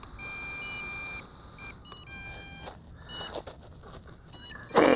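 An MJX Bugs 6 FPV quadcopter and its transmitter beeping: a long steady electronic tone, then short beeps, with clatter at the end.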